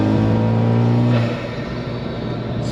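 Budget drag race car accelerating hard in third gear, heard from inside: a loud, steady engine drone with a strong low tone that shifts and roughens midway, continuing as a dense roar.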